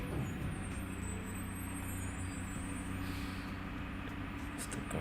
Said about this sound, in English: It's the garbage trucks.